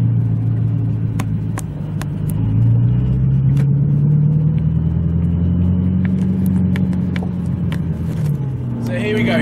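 Audi R8 supercar rolling through Paris streets with a steady low engine rumble that rises slightly as it accelerates, heard from inside with occasional clicks.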